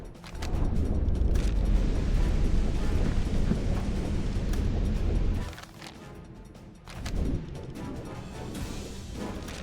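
A submarine torpedo launch in the game Sinking Ships: a heavy, rumbling mechanical rush and churning roar that suddenly drops off, then a shorter surge of rushing noise follows.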